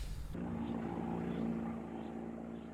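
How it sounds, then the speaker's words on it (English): A steady, low droning engine hum, like a propeller aeroplane, holds at an even level throughout with no voices. "There must have been an aeroplane or something, because it definitely wasn't a boat."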